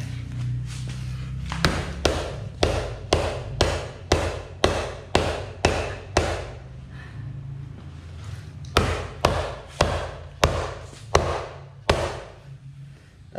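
A hammer repeatedly smashes a fake SC-Project CRT-style carbon exhaust muffler, producing about a dozen and a half sharp, woody thuds in a fairly steady rhythm with short pauses between blows.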